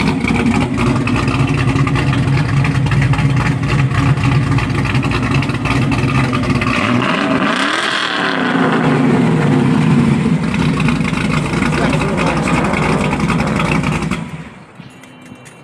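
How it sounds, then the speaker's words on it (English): A 1995 Chevrolet Impala SS engine with a custom 3-inch stainless steel exhaust rumbles deep and throaty, revving up and easing off midway, then cuts out near the end. "Custom 3-inch stainless steel exhaust all the way back."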